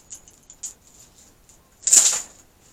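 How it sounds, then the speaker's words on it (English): Metal coins hanging from a piece of belly-dance-style jewelry give a few faint clinks, then one louder, brighter jingling shake near the end, with no voices. "They do jingle a bit."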